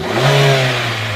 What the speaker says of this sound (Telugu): ఒకసారి ఎక్సలేటర్ చేయము.